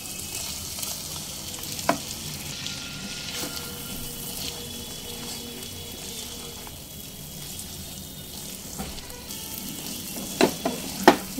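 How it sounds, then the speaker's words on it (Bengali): Fried pointed gourd is stirred into a sizzling spice masala, giving a soft continuous sizzle with occasional spoon knocks and scrapes that grow sharper near the end, close by with no voices. "দুই মিনিট মতো পটল আমি নেড়ে চেড়ে কষিয়ে নিয়েছি।"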